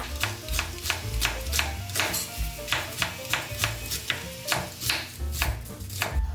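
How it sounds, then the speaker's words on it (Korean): Half an onion sliced thinly with a knife on a cutting board, a steady rhythm of about twenty crisp chopping knocks, close and clear with no talk. "양파 반 개를 준비해서 얇게 썰어줍니다"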